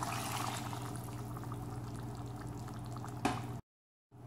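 A glass of water is poured into a pot of cooking meat and dissolved tomatoes, a soft liquid splash and bubbling heard faintly and close. A brief louder burst comes before a silent gap.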